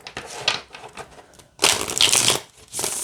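A Kawaii Tarot card deck being shuffled by hand, close and crisp: a few light riffles, then a loud sustained burst of flapping cards, trailing into another short shuffle.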